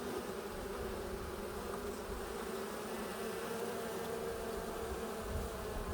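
A dense, continuous buzz of many honeybees swarming close by around a queen cage, steady and loud throughout with no voices.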